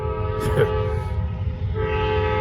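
Norfolk Southern freight train 98Z approaching on the Charlotte District, its horn sounding as sustained steady tones over a constant low rumble, with a brief louder blast early on.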